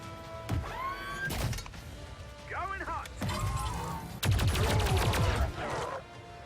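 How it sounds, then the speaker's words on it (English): A captured turret firing in the XCOM 2 video game, heard as several loud bursts of gunfire and impacts mixed with whirring mechanical and electronic game effects. "So now the turret is ours. We're going to see what damage it can do."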